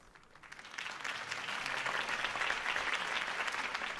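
In a Batman video game, a crowd applauds after a Harvey Dent campaign speech. The clapping swells from quiet to a steady, sustained roar of many hands at a moderate distance.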